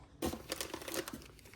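Plastic packaging from a plant delivery crinkles and tears during unboxing, a sudden burst of close, rustling crackles and rips that carries on for over a second, with no talking.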